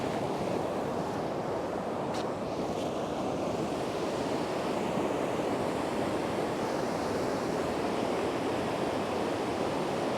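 Rushing water of the swollen Arvan river beneath a bridge in the Alps, a loud, steady, broadband roar that holds unbroken and close throughout.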